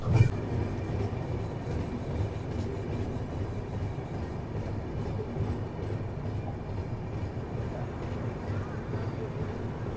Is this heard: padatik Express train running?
yes